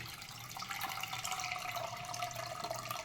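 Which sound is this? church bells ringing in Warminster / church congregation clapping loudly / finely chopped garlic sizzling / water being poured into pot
water being poured into pot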